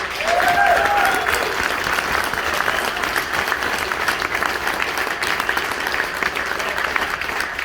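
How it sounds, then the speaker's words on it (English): Loud, sustained applause from a large audience at an award ceremony, dense clapping that holds steady, with a brief voice or cheer near the start. "I do believe that they do deserve a huge round of applause."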